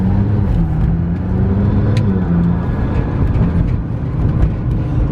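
A 2015 McLaren 650S Spyder, a repaired salvage sports car, drives along with its engine droning loudly and steadily, pitch shifting slightly as it pulls, over constant road and wind noise with no voices.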